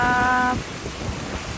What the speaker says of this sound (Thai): ฝนตกนี่เลย